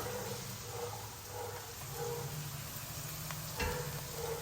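Curry leaves sizzling in hot oil while gongura curry cooks, a continuous close sizzle with faint background tones and a short louder pop near the end.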